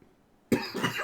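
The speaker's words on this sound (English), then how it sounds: "I'm gonna die from coughing after that." A sudden, close cough bursts out after a moment of near silence and rasps on through the rest of the moment, following a long shouted string of insults during a Magic: The Gathering card set review.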